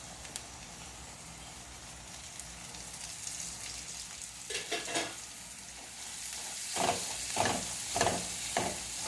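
Garlic chutney with coriander leaves, kasuri methi and asafoetida sautéing in oil makes a continuous crackling sizzle that swells louder, with a run of rhythmic spatula scrapes toward the end and no speech.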